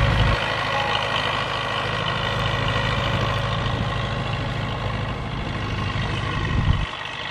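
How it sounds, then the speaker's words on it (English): A Belarus 800 tractor's diesel engine, over 20 years old and doing heavy work, chugs steadily nearby, a constant heavy rumble with little change until a brief bump near the end. "I see wow how one tractor working"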